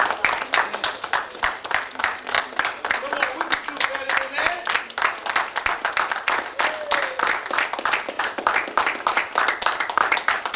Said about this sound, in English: Let's give our student, Captain Darius, a hearty round of applause